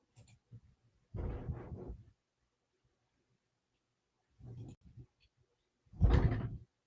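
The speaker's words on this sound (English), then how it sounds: "somebody's slamming the door over there" A door slams somewhere across the room, a distant heavy thud with a longer rumbling burst after a pause, followed by a second, louder bang near the end, with quiet gaps between the impacts.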